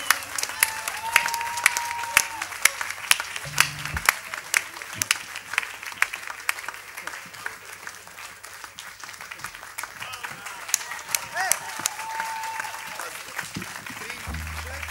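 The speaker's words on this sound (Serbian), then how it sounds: "Ajmo jedan aplauz za Bucu, molim vas." A studio audience at a live concert claps steadily for a band, a continuous dense patter of many hands that runs throughout at moderate level, with a brief voice heard in the middle.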